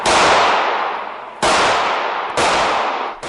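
Three loud, sharp 9mm pistol shots spaced about a second apart, each a close crack followed by a long echoing decay.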